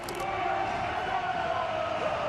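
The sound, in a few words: football stadium crowd cheering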